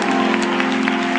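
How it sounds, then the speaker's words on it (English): Members of a church congregation clap their hands during worship, with a sustained musical tone or organ chord ringing underneath the brisk, continuous clapping. "Let's clap our hands before we're seated."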